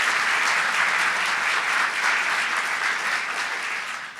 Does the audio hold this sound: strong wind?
no